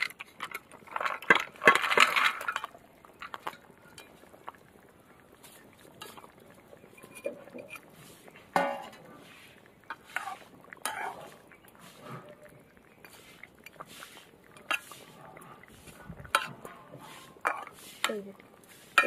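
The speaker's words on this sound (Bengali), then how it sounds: "ভেজে রাখা মাছ আর বড়ি দিয়ে দেবো।" Fried bata fish and bori go into a simmering pot of fish curry with potatoes, giving a cluster of clinks and knocks near the start, then sparse soft taps and stirring under spoken talk.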